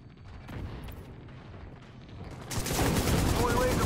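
Gunfire during a raid boss fight in The Division 2 video game, a mix of distant shots that swells into a loud, dense burst of continuous fire halfway through.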